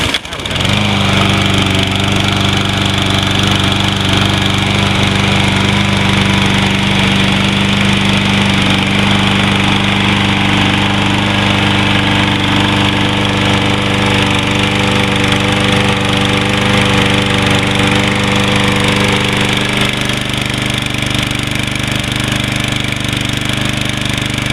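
A Troy-Bilt TB230 21-inch walk-behind lawn mower engine starts with a brief pull and then runs steadily at a loud, constant idle, its droning hum and buzz continuing alone and unchanged for the rest of the stretch.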